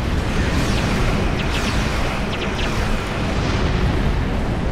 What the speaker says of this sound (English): Oh, see, there goes a torpedo.